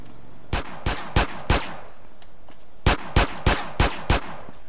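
Gunshots in GTA San Andreas ring out in two bursts, four sharp cracks then five more after a brief pause, loud and close with no talking over them.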